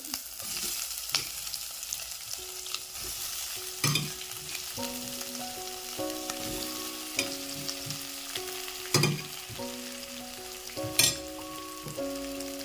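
Onions sauté for a dry potato sabzi, giving a steady close sizzle broken by several sharp spatula scrapes and clacks against the pan, with soft sustained musical tones underneath from a few seconds in.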